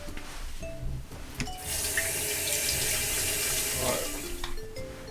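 Tap water runs steadily over a softened lime as its skin is rinsed, a continuous close splashing stream lasting several seconds with no talking.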